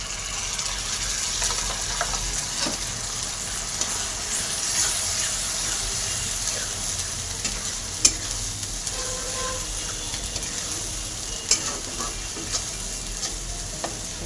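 Grated tomato sizzles in hot oil with fried ginger and garlic as the base for a fish curry, a steady close frying hiss with occasional stirring scrapes and no talk.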